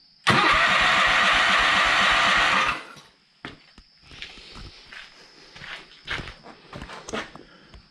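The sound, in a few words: lawn tractor engine starting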